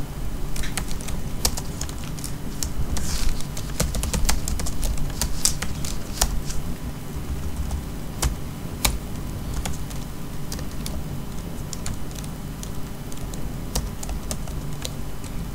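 Someone types on a computer keyboard while filling in a test paper in software, rapid irregular clicks and key taps running continuously at close range over a low background hum, with no speech.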